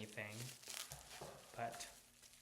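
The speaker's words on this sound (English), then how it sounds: "this is me unboxing slowly. It's to make sure that I don't rip anything" Packaging crinkles and crackles close by as a 1986 Rainbow Brite dress-up doll is slowly unboxed, a few irregular rustling bursts sounding between faint, soft talk.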